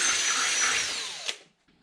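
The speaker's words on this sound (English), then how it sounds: "I'm just going to drill some pilot holes in this" Power drill boring pilot holes into an aluminum radiator support, a steady close high-pitched whine that slows and stops with a brief bite, followed by near silence.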